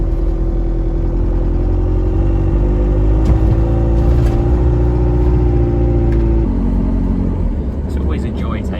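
A slow camper van drives along a road, its engine humming in a steady mid-pitched drone with a gear-shift drop near the end, loud and close from inside the cab.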